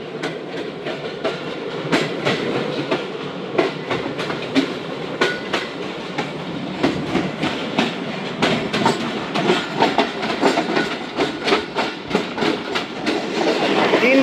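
The 16Dn Karachi Express runs along the line near Rahim Yar Khan, heard from aboard as a steady rumble with rhythmic clickety-clack of wheels over rail joints, growing busier and louder toward the end.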